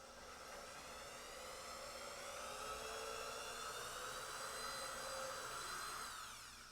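A power drill bores slowly into wood on a pinball playfield, giving a steady whining motor tone with rising harmonics that runs continuously for several seconds, close and fairly loud.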